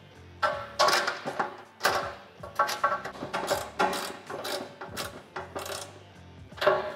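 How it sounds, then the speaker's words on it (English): Ratchet wrench tightening bolts on a Can-Am Defender utility cargo rack: rapid clicking pawl bursts in repeated strokes with brief gaps, close and fairly loud, with metallic clinks mixed in. "You're gonna tighten all the bolts in the back."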